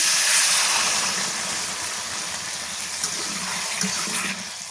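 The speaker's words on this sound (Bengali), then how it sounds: "একটুখানি পানি দেই" A little water gushes into a cooking pan where taro stolons cook with dried shrimp, a steady, fairly loud rushing pour that continues for several seconds.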